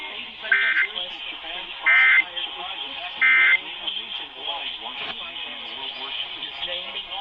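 Three short, loud EAS header data bursts cut through a talk radio broadcast, heard over narrow-band, radio-quality speech that continues throughout.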